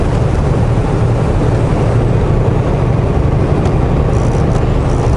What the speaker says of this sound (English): A little engine brakes here. Save the brakes while there's still traction here.